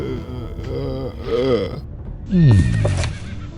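A horse in a video game whinnies twice in quick succession, close and fairly loud, the second call rising then falling over a busy background.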